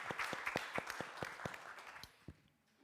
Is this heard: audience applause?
yes